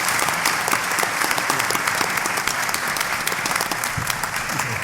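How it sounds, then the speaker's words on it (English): Audience applause fills a Comic Con 2019 panel on Tiki art and Polynesian pop, steady dense clapping from a crowd at close range, continuing without letup for about five seconds. "Give a big round of applause."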